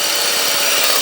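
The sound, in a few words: power drill drilling out mangled rotor screws on Honda Accord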